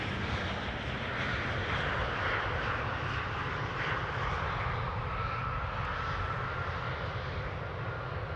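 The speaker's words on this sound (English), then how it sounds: "This is Air France with an Embraer 190 arriving from Paris?" An Air France Embraer 190 jet arrives from Nantes at Amsterdam Schiphol Airport. Its engines give a continuous broad roar that stays loud and even throughout, with no voices.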